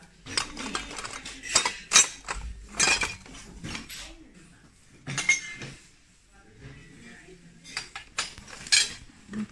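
Vintage silver-wedding-anniversary plates being handled at a flea market in Germany, with a few close, bright clinks and clatters of ceramic and metal in bursts separated by quiet pauses.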